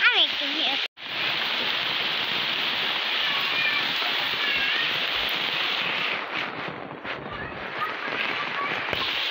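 A heavy downpour in Joypurhat, Bangladesh roars as a dense, continuous hiss of rain that fills the scene almost unbroken, with a brief voice at the very start.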